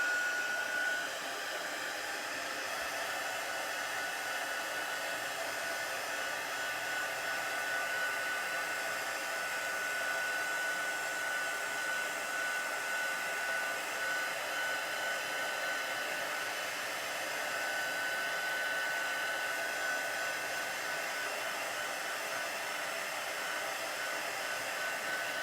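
A hair dryer blows steadily and evenly for the whole stretch, drying chalk paste on craft pieces at a table, close and continuous with no talking.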